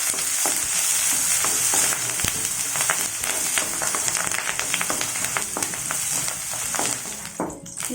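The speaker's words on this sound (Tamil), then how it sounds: "கறிவேப்பிலை போட்டு வதக்கிங்க." Onions and curry leaves sauté in a pan for a chilli egg curry, giving a steady, close sizzle broken by frequent stirring scrapes and crackles, with no talking.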